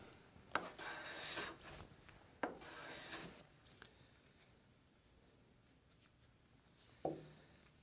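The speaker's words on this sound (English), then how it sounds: "To plane this board, we're simply going to start on the left-hand side and move our way across to the right" Smoothing plane shaving a wood board in overlapping strokes: two soft, close rasping passes a second or so long, each opened by a light knock, then faint handling and another knock, quiet overall.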